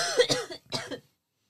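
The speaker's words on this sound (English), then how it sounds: "she's coughing." Two quick coughs, close and fairly clear, the first a rough burst and the second shorter, followed by silence.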